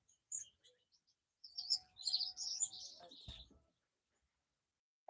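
Birds in a garden chirp and tweet in short bursts, with a few scattered calls followed by a busier cluster of bright twittering, fairly faint and at a moderate distance, then silence.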